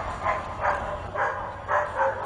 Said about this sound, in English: All over the city, dogs are barking.